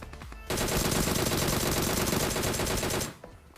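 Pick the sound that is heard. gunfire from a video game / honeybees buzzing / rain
gunfire from a video game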